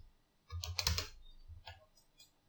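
Computer keyboard keys pressed while modelling in Maya 2017, a cluster of quick close clicks followed by a few lighter separate taps, with no talking over them.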